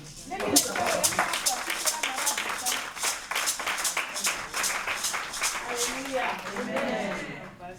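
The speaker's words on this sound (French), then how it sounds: "Chaque fois que nous invitons quelqu'un, nous devons applaudir pour lui." A church congregation applauds with brisk, uneven clapping from many hands that fills the room, while voices talk and call out over the applause.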